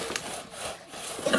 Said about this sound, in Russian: как пилит